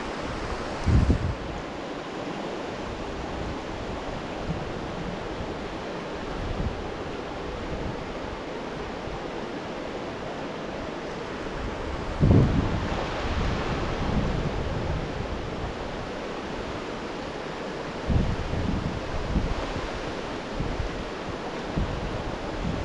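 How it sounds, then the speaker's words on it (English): Steady wind blows across a riverside fishing spot, a broad rushing roar with stronger gusts buffeting the microphone near the start, midway and toward the end, with no voices. "It's a little bit windy."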